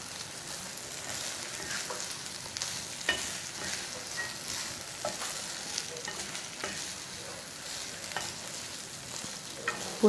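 Egg bhurji rice is stirred and mixed in a pan over low heat, a steady soft sizzle of frying with repeated scraping strokes of a spatula, close and continuous, without talk.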